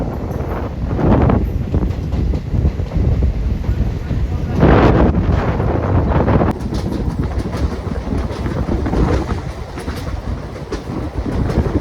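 Onboard the Guruvayur-Madurai Express, a loud steady rumble of the moving train runs throughout, with wind buffeting the microphone and faint rhythmic clatter from the wheels, plus a sharp shift in tone partway through.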